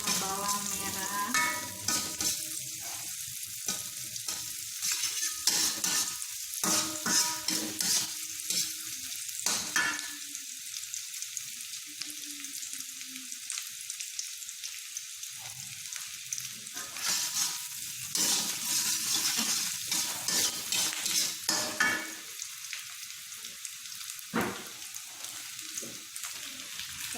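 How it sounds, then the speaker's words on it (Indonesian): Garlic and shallots fry in a pan with a continuous bright sizzle and crackle, punctuated by stirring scrapes and bursts of louder spitting, heard up close with no talking. "Pertama kita masukin bawangnya dulu. Bawang putih sama bawang merah."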